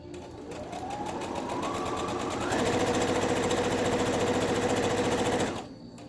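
A sewing machine stitches ribbon strips onto a tutu, its rapid mechanical whir running steadily for about five seconds and picking up speed partway through before stopping, close and alone.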